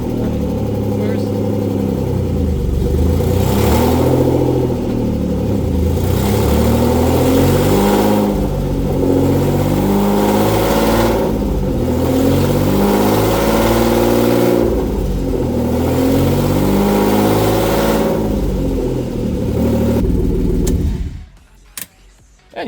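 BMW E36 coupe engine running extremely loud with a header and exhaust disconnected, a harsh raw roar with repeated swelling revs over about twenty seconds, close by, before cutting off abruptly.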